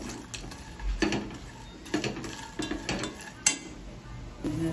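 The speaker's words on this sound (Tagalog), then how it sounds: "Ilagay natin yung ketchup. Yan. Haluin natin." A utensil stirs squid and ketchup in a pan, giving irregular scraping and clinking strokes against the metal with a faint sizzle beneath, close by.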